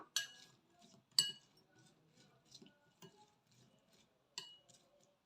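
Utensils clink against a bowl while a salad is mixed, producing sparse, quiet metallic taps and scrapes at an irregular pace, close by and with no talking.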